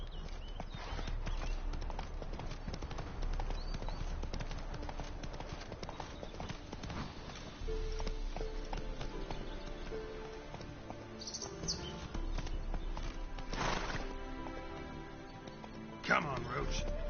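A horse's hooves clip-clop steadily at a gallop in The Witcher 3, with chirping birds behind and a voice speaking briefly over the rhythmic pounding.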